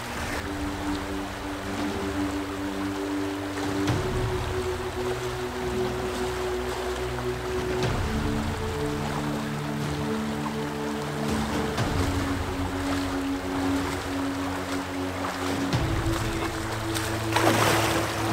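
A river being crossed on foot along a wilderness escape route near the Finnish border, heard as a steady, close rush of flowing water with a low hum underneath and no talk.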